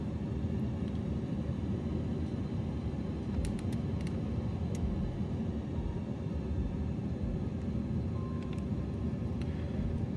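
A steady, droning airplane engine rumble from a bush flying simulator game during a landing approach with flaps down, constant and moderately loud throughout with a few faint clicks.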